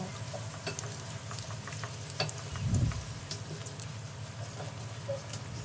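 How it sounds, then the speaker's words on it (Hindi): Vegetarian gold fish shapes frying slowly in hot oil over a low flame, giving a soft steady sizzle with faint crackles and one brief louder bubbling swell midway. "अब हम इसे धीमी आंच पर फ्राई करेंगे।"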